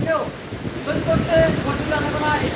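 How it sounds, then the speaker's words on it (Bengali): At Old Digha beach, strong gusting wind roars over the microphone with surging sea waves underneath while someone talks through the din. "ওল্ড দীঘা সমুদ্র সৈকতে চলছে ব্যাপক পরিমাণে বাতাস তার সাথেই চলছে জল উচ্ছ্বাস দীঘার সৈকতে"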